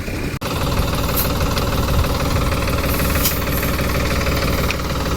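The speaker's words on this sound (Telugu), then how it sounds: "కాబట్టి ట్రాక్టర్ వేస్తున్నాం" A tractor sowing soybean seed in a field runs loud and steady, its engine knocking with a continuous rough rumble close to the listener throughout, with no talk.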